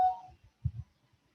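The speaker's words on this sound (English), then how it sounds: "That was my phone" Mobile phone notification, a single short bright tone that fades quickly, followed by a few faint low thumps in an otherwise quiet room.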